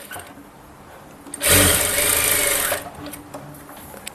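A sewing machine runs in one steady burst of about a second and a half, stitching piping onto a blouse sleeve, loud and close, with quiet room noise before and after.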